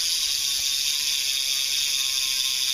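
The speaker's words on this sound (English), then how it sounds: "Show you how the hub sounds." A BMX bike's rear hub ratchet freewheels in a fast, continuous buzzing click, even and close, with a steady high whir over the whole stretch; no talking.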